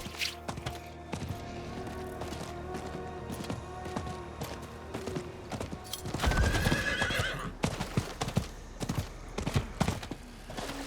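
A horse in the video game Diablo 4 gallops with steady clip-clop hoofbeats and neighs loudly partway through, set against game ambience with no voices.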